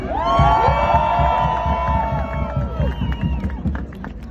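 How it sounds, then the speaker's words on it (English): A loud crowd at a pro-Palestinian protest in Toronto cheers and whoops, with excited shouts rising over the noise, then settles into scattered clapping and chatter. "Everyone make some noise for Omar."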